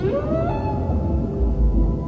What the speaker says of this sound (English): No one is sure why 52 blue sings at this unusual frequency.